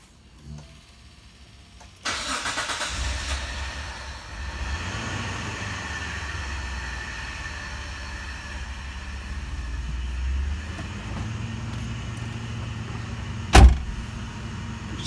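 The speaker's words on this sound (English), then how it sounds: "So here's the cold start." A used 2001 Mitsubishi Montero Limited 3.5L V6 with 161,000 miles cold-starts with a sudden crank and catch, then settles into a steady low idle, close up, with a brief sharp knock near the end.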